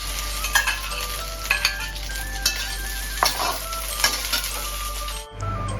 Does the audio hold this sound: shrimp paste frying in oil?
yes